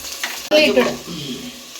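Shallots sautéing in a pan for a country chicken curry: a sudden loud sizzle as they drop into hot oil, crackling fades to a steady frying hiss, close by with no talking.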